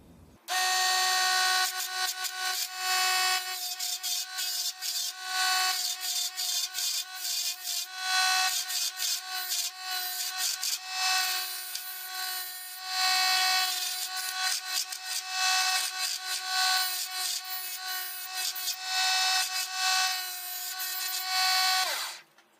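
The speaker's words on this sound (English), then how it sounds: "So I'll be using the little baby chisel they gave me." Small DC 24V mini lathe spinning a wooden workpiece shaped into a finned barrel with a small chisel, a loud continuous motor whine overlaid with steady scraping and rubbing of the blade on wood, briefly dipping as the cut pauses.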